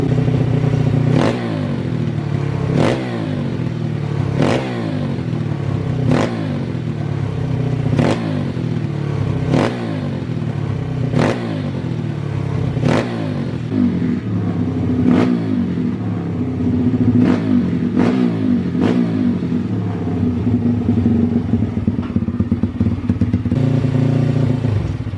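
A PitGang 140XD pit bike engine, cold with its carburettor still being set up, catches and revs in a run of sharp, evenly spaced throttle blips over a steady loud idle, heard up close with no talking.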